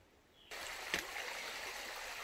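A creek on the Appalachian Trail in Virginia trickles and gurgles steadily nearby, a constant rushing babble that starts abruptly and stays even throughout.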